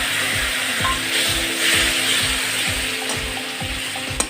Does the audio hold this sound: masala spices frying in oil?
yes